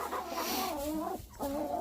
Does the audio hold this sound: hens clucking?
yes